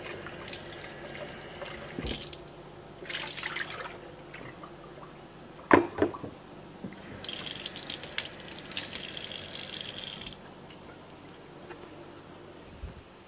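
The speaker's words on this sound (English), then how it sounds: "Just give it a little rinse here." Tap water runs into a sink while banana passionfruit seeds are rinsed, a soft steady trickle with a brief splash, then a louder, fuller stream for a few seconds before easing off.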